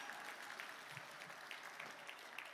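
An audience breaks into brief, fairly faint applause, a steady patter of many hands clapping for a couple of seconds with no voices over it.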